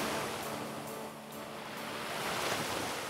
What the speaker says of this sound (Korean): 이 파도 소리에 귀 기울여야 되는 것 같아요